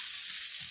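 Onions and hamburger meat frying in a pan for a casserole, a steady, close hiss of sizzling fat with a faint low rumble underneath, brief and without talk.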